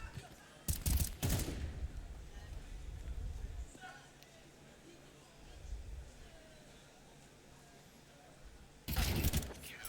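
Bursts of gunfire in the video game Counter-Strike 2, two loud volleys of rapid shots near the start and another at the end, with quieter game ambience and faint shots between.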